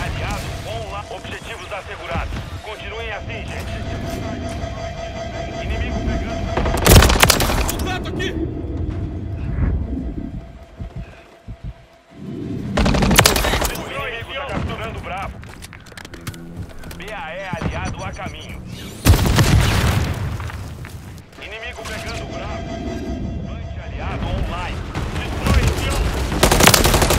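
Gunfire from the Call of Duty: Modern Warfare 3 beta on the Rust map, rapid automatic bursts and single shots in loud clusters, under a player's excited talk and in-game radio callouts.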